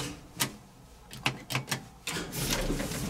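Sharp mechanical relay clicks and clunks from a Haughton traction elevator sound in an irregular series, a few close together, followed by a steady whirring hum.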